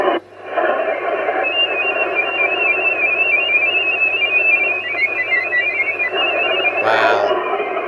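Radio signal tones picked up over the air: a steady wash of hiss and overlapping warbling tones that holds for several seconds, with a brief brighter burst near the end.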